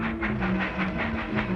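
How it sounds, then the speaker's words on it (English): A train pulling out of a station, with steady rumbling and rhythmic clatter of wheels on rails, loud and continuous, and no voices over it. "Come on, the train's going."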